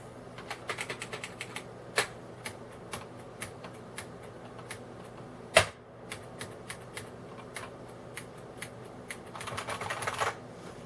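Typing on a beige Unicomp Model M 103-key PS/2 keyboard, crisp buckling-spring clacks in irregular bursts with one louder keystroke midway and a quicker flurry near the end.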